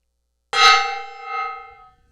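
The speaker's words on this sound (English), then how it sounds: "As these roll in, I'm going to hit that gong." A gong struck once: a bright metallic clang with a sustained ringing tone that fades over about a second and a half, heard alone with no talking.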